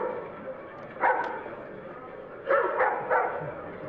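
Dogs bark and yip in a film scene where a wolf-dog is set to fight two dogs, sharp bursts in short clusters heard through a broadcast soundtrack with some talk around them.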